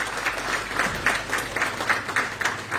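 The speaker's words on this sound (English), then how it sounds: "A big round of applause for the dignitaries" An audience applauds the dignitaries at an institute talk-series event with a steady, dense wash of clapping and a few stronger periodic claps standing out, moderately loud and continuous.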